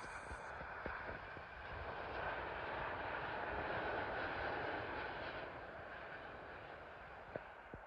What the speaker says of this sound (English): Arriving in now is an Air Canada Boeing 787 from Calgary to Heathrow.